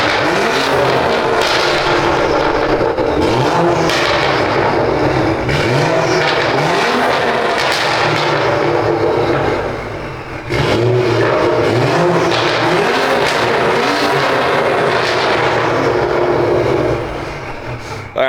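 A BMW 435i with a catless downpipe idles loudly and revs repeatedly inside a parking garage. The exhaust drone is steady and echoing, with rising and falling rev sweeps and a brief dip near the middle.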